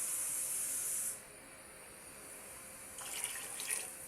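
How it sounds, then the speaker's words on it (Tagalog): Water pours steadily into a cooking pot for bangus sardines, a close hissing stream that stops after about a second and then returns in softer bursts. "So, lagyan natin ang tubig."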